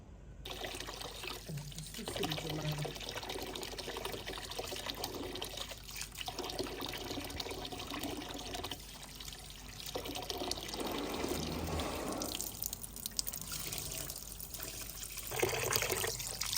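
Rice, chicken meat, onions, tomatoes and green chillies being washed together under running tap water for a village-style biryani, a steady pouring and trickling flow with splashing shifts, close and continuous, with no talk.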